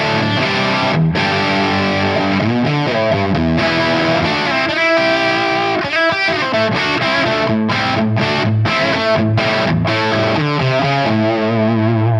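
A high-gain electric guitar tone from a Tonex amp capture on the jump channel at its top gain setting, with thick, saturated chords and palm-muted chugs played loud and continuous, no voices.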